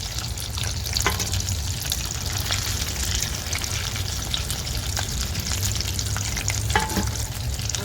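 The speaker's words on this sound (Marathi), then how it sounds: "तर आता हे बॉल्स ना झालेत तळून तर आता मी काढून घेते" Cheese corn balls deep-frying in hot oil give a steady, close, dense sizzle with a few brief crackles, continuous for the whole stretch with no talking.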